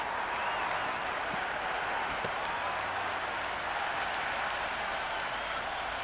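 A cricket crowd at a Big Bash match between Sydney Thunder and Melbourne Stars applauds in a steady, dense wash of clapping that holds at an even level throughout.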